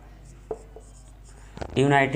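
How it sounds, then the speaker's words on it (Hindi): During a Hindi-language teaching session, a marker taps and scrapes briefly on a board, a few faint strokes, followed by the teacher's voice. "मैं यहाँ पर लिखता हूँ"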